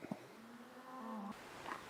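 Cattle low near a remote sheep camp in Montana with a single drawn-out moo at moderate distance over quiet outdoor air.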